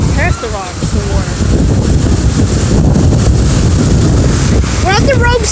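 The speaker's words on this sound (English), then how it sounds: "The waves just go over it." Ocean waves surge in at high tide on a beach with a steady, loud roar of surf, heavy wind buffeting the microphone, and voices speaking briefly near the start and end.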